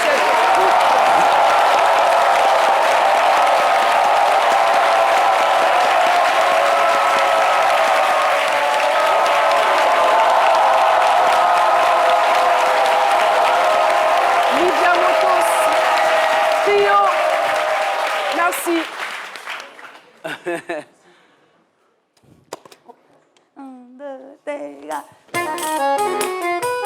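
Audience applause at a live midday music broadcast, welcoming a music trio, steady and full for about eighteen seconds before fading out, followed by sparse voices.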